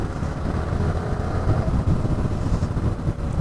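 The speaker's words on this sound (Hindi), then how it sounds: "सो गाइस थोड़ा भगाते हैं, देखते हैं कितना विंड ब्लास्ट आ रहा है।" A motorcycle ridden fast, heard through an external mic with heavy, steady wind blast roaring over the muffled engine throughout.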